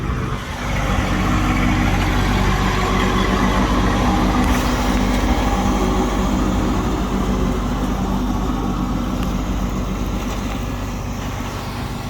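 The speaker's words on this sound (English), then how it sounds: "boss lady's mowing with the new tractor" A new tractor's engine runs continuously while mowing, a loud, steady low rumble with broadband mechanical noise that holds at an even level throughout, with no voices.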